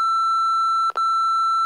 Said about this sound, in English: That's getting beeped out.